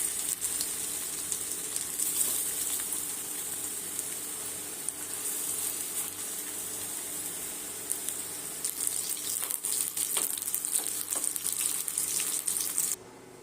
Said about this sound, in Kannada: ಸ್ವಲ್ಪನೇ ಎಣ್ಣೆ ಹಾಕಿ ಫ್ರೈ ಮಾಡ್ಕೊತೀನಿ